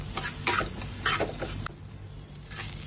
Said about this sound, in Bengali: একটা বাড়িয়ে পেঁয়াজগুলো ভাজা করে নেব ভালো করে